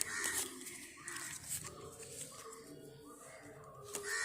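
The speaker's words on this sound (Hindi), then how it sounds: "कौवे की आवाज़" Crows cawing outdoors: several harsh, separate caws spread across the moment, mid-distance, with faint background ambience and no talk over them.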